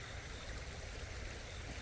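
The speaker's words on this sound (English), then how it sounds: "it's just a cool little creek." A small creek flowing through a park, giving a steady, even wash of water noise throughout, with no voices over it.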